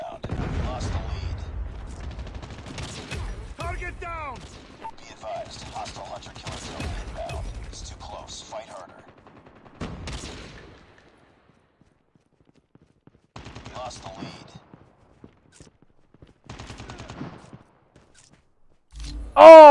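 Rapid bursts of automatic gunfire from Call of Duty Mobile, played on PC with keyboard and mouse, crackle in clustered volleys over the first half, with a voice over parts of it, then thin out into sparse, quieter shots before a loud burst at the end.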